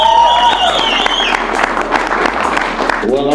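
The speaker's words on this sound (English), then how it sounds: "Give me a round of applause." Crowd applause at a boxing press conference for an amateur fight-night promotion in Central Florida; loud clapping builds and holds, with a brief tonal sound at the start and voices mixed in.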